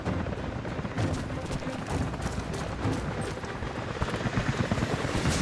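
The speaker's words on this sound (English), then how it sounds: "helicopters are headed your way" Helicopters close in during a battle in the video game Rise of the Tomb Raider: a loud, steady rotor thrum fills the scene, layered with rapid bursts of gunfire and no talking.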